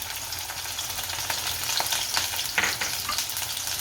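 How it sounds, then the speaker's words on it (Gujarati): Green chilies drop into hot oil for a tempering in a Gujarati sandwich recipe. A loud, steady sizzle of frying spits and crackles close by, with occasional stirring scrapes. "તેલ ગરમ થઈ ગયું છે. આમાં મરચાં નાખી દઈશું."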